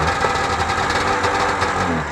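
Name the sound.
Rys snowmobile engine starting up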